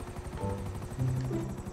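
A helicopter in the video game GTA whirs with a steady rapid rotor chop and engine drone, continuous and fairly loud with no talk over it.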